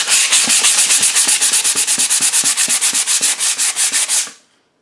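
Close, rhythmic back-and-forth sanding of a wooden axe handle with coarse 100 grit sandpaper, about twenty quick even strokes in a steady scratchy rasp before stopping abruptly.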